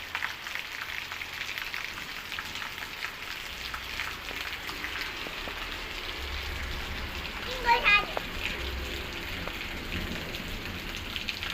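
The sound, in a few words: rain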